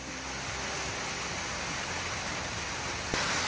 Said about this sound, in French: Ah, jolie petite cascade.